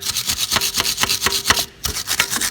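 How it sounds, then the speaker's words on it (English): A wire brush scrubs hard at a rust-covered ball joint nut on a Smart Fortwo's front suspension, a quick rhythmic series of rasping strokes, close up, with one brief pause near the end. "get my wire brush in there as best I can"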